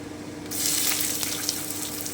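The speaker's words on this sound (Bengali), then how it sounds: "আমি খুব সামান্য একটু ভেজে নিচ্ছি আঁচটা কিন্তু কমিয়ে দিয়েছি এবারে আমি পেঁয়াজটা দিয়ে দিচ্ছি" Onions hit hot oil in a pan over lowered heat, where garlic is already frying, and set off a sudden bright sizzle about halfway in that holds steady and close.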